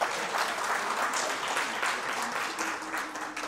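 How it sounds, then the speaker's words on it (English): A conference audience claps in a dense, even round of applause that carries on steadily for a few seconds. "Another round of applause"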